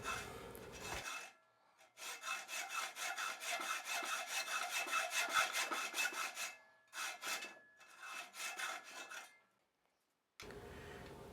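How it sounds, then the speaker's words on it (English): A sharp hacksaw cuts a groove into wood for hand-made wooden threads, with steady rhythmic back-and-forth rasping strokes close by, pausing briefly and resuming, then ending with a short scrape. "sharp hacksaw and cut that groove almost to the bottom and maybe about half an inch back or so"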